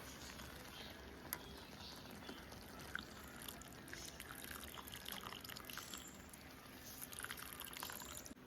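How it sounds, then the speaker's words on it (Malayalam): Milk being poured into semiya payasam in a pot, a faint continuous liquid trickle with light patter, quiet and close with no talking. "ഇതിനകത്തൊന്ന് നമുക്ക് കുറച്ച് പാലങ്ങോട്ട് ഒഴിച്ച് കൊടുക്കാമേ"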